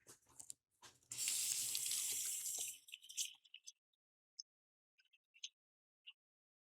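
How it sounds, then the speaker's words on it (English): Hands washed at a sink under a running tap: a steady close rush of water for about two seconds, then scattered drips and small splashes as it stops. "Let me wash my hands."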